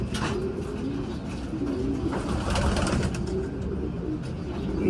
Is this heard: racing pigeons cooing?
yes